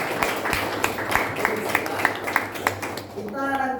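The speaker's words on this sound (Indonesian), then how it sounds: "Tepuk tangan." Students in a classroom clap their hands together in a brief round of applause, the rhythmic claps fairly close with voices mixed in.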